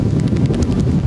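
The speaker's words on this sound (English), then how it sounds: "Oh, it's so windy," Strong wind buffets a microphone at a glacier viewpoint above a canyon, a loud, continuous roaring rumble with gusty swells and no voices.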